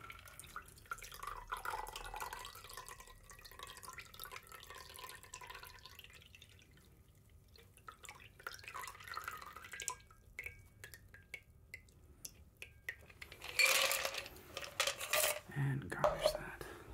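A cucumber jalapeño martini is poured through a cocktail strainer, with soft close dripping and trickling, light metallic clinks, and a brief louder splashing pour near the end, under quiet whispered talk.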